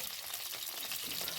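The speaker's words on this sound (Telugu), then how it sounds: "ఆయిల్ కొద్దిగా వేడెక్కిన ఆయిల్లో 2 పచ్చిమిరపకాయలు ఇలా కొద్దిగా వేయించండి" Two green chillies fry in lightly heated oil in a pan while a ridge gourd and moong dal curry is made, giving a soft, steady sizzle heard quietly on its own.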